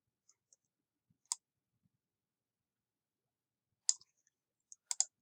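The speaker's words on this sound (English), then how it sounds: "you will click on the Sign Up button here" Light, crisp computer mouse clicks break an otherwise silent stretch while clicking a Sign Up button: a lone click, then a quick cluster of three or four near the end, all quiet and close.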